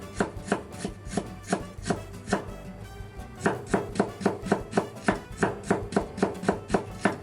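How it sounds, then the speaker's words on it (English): A knife slices ginger into thin strips on a cutting board, giving a fast, even run of close, crisp chops with one brief pause partway through, no talking. "Next, we need to slice 1 stub of ginger into thin strips."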